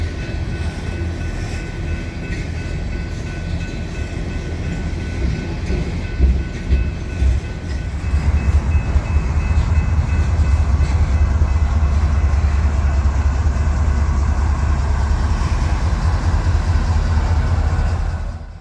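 A freight train with a DPU locomotive rolls past, a loud continuous rumble and clatter of wagons that builds and holds steady for the whole stretch.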